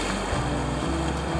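Ocean waves wash in at the water's edge below a rocky Australian coastal point, a deep, steady rumbling surge mixed with wind buffeting the microphone, close and fairly loud.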